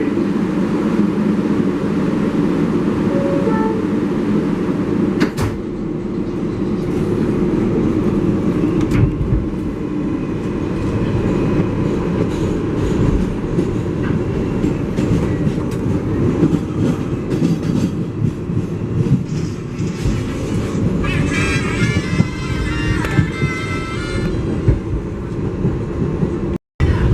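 An MTA 7 local subway train bound for Flushing Main Street rumbles along with a constant loud roar, occasional rail clicks and jolts, and brief squeals near the end, heard from inside the car without talk.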